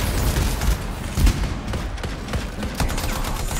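Continuous heavy automatic fire from a chain gun in the video game Anthem, a dense rattling stream of shots with a few louder bursts, steady and close throughout.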